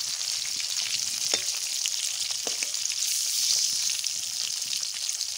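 Tuna fish sizzling and frying in hot oil in a pan as it is turned and stirred, a steady close crackle with a few sharper pops, no voices.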